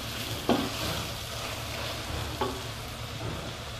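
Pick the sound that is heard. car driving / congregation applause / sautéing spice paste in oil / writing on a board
sautéing spice paste in oil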